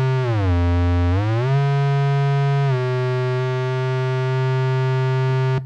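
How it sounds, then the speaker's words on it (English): ARP 2600 M synthesizer oscillator playing a buzzy square wave, its pitch swept down, back up and then held steady as it is tuned; loud, sustained and alone. "let's bring in oscillator 2 instead, which is also normaled as a square wave, as you can hear"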